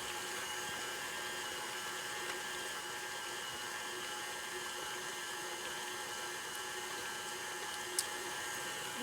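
An electric mixer runs steadily, blending cookie dough with raisins and nuts; a continuous moderate whir with a brief click near the end, no voices.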